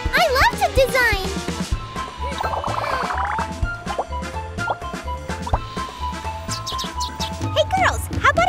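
Cartoon bird chirps in quick, bright bursts over a bouncy children's cartoon music bed, with short tweeting trills scattered through the passage and a voice speaking lightly in places.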